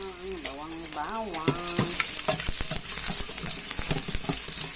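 Garlic frying in a pan gives a steady, bright sizzle throughout, with a short tonal, voice-like melody over the first two seconds and some clinks as it cooks.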